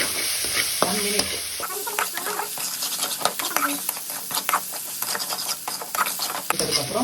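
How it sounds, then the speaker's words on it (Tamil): Ginger garlic paste frying with shallots in a pan for a Tamil fish and greens dish, a steady close sizzle broken by scraping, clattering stirs through the whole stretch. "இஞ்சி பூண்டு பேஸ்ட்டு நல்லா போட்டு நல்லா வதக்கிடுங்க"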